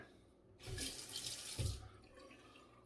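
Running tap water splashes loudly into a sink for about a second, with a brief heavier gush midway as a shavette razor is rinsed, then cuts off to quiet.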